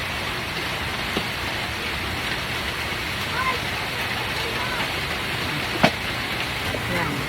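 Steady rain falls outside a home's dirty kitchen beside the garage, a dense continuous hiss close by with occasional sharper drips and clatters.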